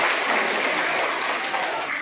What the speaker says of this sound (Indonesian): Berikan tepuk.